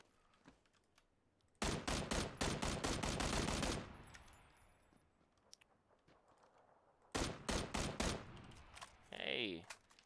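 Loud bursts of rapid automatic gunfire from a video game, two clusters of dense shots separated by quieter stretches of background game noise, with a brief electronic whine near the end.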